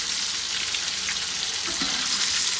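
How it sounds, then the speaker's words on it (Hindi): Chicken popcorn deep-frying in hot oil, a dense, steady hiss of bubbling fat that runs unbroken and fairly loud throughout, close up, with no voices. "ये देखिए, ऑलमोस्ट ये फ्राई हो चुके हैं"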